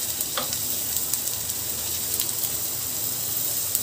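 Dal baati made from whole wheat flour sizzles steadily in a hot pan as the pieces are turned, a continuous close frying hiss with a few faint scraping clicks and no talking.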